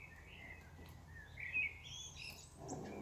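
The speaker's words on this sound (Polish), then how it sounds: "Już ptaszki śpiewają." Faint birds chirping and singing in the distance, a few light tweets over quiet outdoor background noise.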